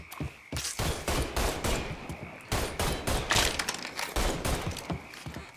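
Dense gunfire in the video game Mafia 3, a near, loud barrage of rapid overlapping shots and bursts that continues almost without pause, with one brief lull.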